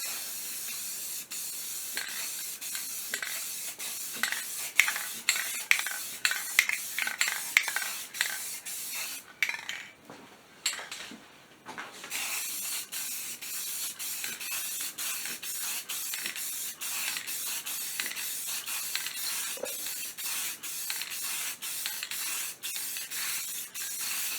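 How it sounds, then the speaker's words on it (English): Clear coat sprayed from an aerosol can, a loud close hiss in several short bursts and then a long continuous spray, with no voices. "We're just going to give that a quick bath in some clear coat."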